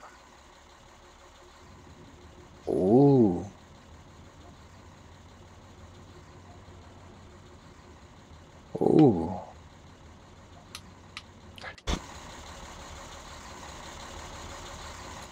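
A vehicle engine in Farming Simulator 17, with a drive control like a fire truck's, settles into a steady low idle hum. Two short vocal exclamations rise over it, followed by a few clicks and a sharp knock before the idle carries on.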